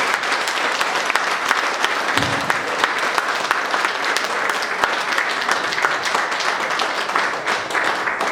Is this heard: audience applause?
yes